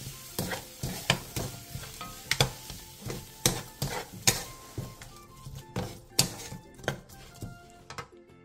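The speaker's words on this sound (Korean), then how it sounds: "다 볶았으면 들기름 반 스푼, 대파, 홍고추, 통깨를 넣고 가볍게 뒤적여 마무리해주세요." Stir-fried cucumber in a pan is tossed with perilla oil, scallion, red pepper and sesame seeds, giving repeated sharp scraping clacks of a utensil against the pan over a soft steady sizzle, close and moderately loud, with no talking.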